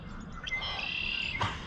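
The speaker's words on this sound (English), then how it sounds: "That's a red-winged blackbird right there." A red-winged blackbird calls once at dawn, a buzzy trilling note that rises and holds before a sharp ending, moderately distant and alone in a quiet morning outdoors.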